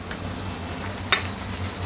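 Onion, grated garlic and other vegetables fry in butter in a pan, making a soft, steady sizzle close by, with one brief sharp clink partway through.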